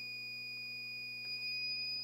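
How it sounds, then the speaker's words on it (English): An X-Power 1000W inverter emits a steady high-pitched electronic beep tone, faint and continuous, over a low electrical hum. "I can't recall why it makes that beep"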